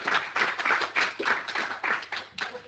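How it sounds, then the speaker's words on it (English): Audience at a geospatial skills conference applauding steadily, a dense patter of many hands clapping at moderate loudness with slight swells, no talking over it. "Hear those nice applause coming from the people who are present"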